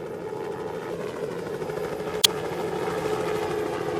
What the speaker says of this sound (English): Half an hour later, they heard a helicopter